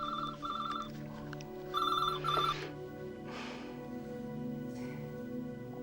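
A telephone rings on a Polish radio phone-in line as a caller comes through, two bursts of electronic trilling ringing over a low studio hum and background tones, with no speech.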